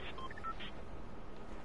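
Short electronic phone beeps sound as a phone is switched off: a few quick distinct tones in the first half-second, faint and thin, then quiet hiss.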